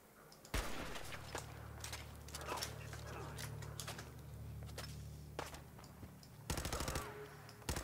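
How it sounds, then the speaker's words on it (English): Firefight in a Fallout game: irregular bursts of gunshots and automatic fire at moderate distance over a low steady hum, with a louder rapid burst near the end. "so that was a nice little firefight to start off with"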